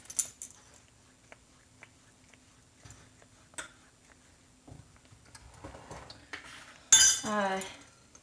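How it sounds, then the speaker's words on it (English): A spoon scoops cocoa powder and sugar, making sparse, faint clinks and taps in a quiet kitchen. A voice briefly speaks near the end. "3 scoops of cocoa and 2 scoops of sugar"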